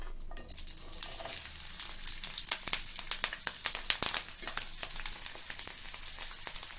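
A cupful of slit green chillies fries in hot oil, a continuous close sizzle broken by frequent sharp crackles and spits at an irregular rhythm, with no voices.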